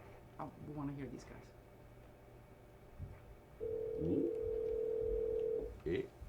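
A telephone rings out while placing a call to Reed, a steady electronic tone holding for about two seconds, loud and clear, with voices talking around it and brief chatter before and after.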